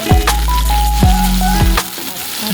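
Squid hits a hot pan for adobong pusit and bursts into a loud, steady sizzle, with clattering knocks of a utensil against the pan, close up and without talk.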